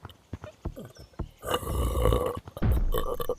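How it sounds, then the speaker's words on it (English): A boy lets out two long, loud, gravelly burps in quick succession, preceded by a few short clicks and gulps. "I've been burping like ever since I was like 7"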